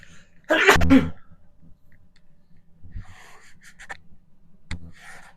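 A single sharp sneeze bursts out early, followed by quiet breathing and a couple of faint snorts or sniffs.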